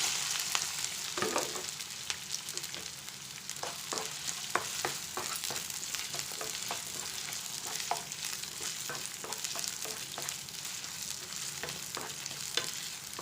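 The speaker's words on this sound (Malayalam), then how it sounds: "അതൊന്ന് ചൂടാകുമ്പോഴേക്കും നമുക്ക് അരിഞ്ഞു വെച്ച സവാള ഇട്ട് കൊടുക്കാം." Chopped onions sizzle in a hot pan for a vegetable curry, a steady close frying hiss with occasional stirring clicks and scrapes throughout.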